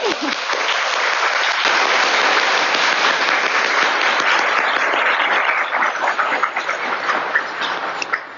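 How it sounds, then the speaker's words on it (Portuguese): An audience applauds at the close of a talk at an innovation centre, the clapping steady, dense and continuous for several seconds before thinning slightly toward the end. "Então, uma salva de palmas para Dani."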